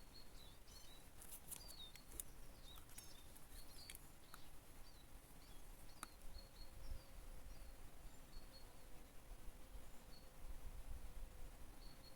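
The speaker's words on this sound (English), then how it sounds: "I think I can hear a bee." A faint insect buzz hums steadily in an outdoor setting, with scattered bird chirps and background ambience; quiet, fairly distant.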